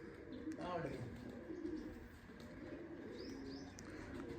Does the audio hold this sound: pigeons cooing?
yes